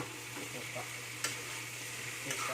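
Eggplant sautés in a pan with a steady, soft sizzle, occasional stirring scrapes and taps punctuating the frying, close and moderately quiet.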